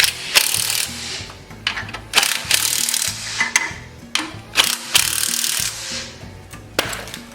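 Metal fittings being tightened by hand on a pressure washer pump, with the garden hose and wand connected: repeated close clicks, rattles and scraping rubs in irregular bursts, without talk.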